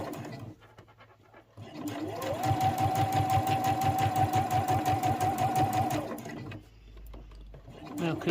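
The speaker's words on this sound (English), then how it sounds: "just sew those two edges together" A sewing machine stitches two fabric edges together for a recessed zipper, running in a fast steady mechanical rhythm for several seconds, starting and stopping cleanly, with quiet room noise before and after.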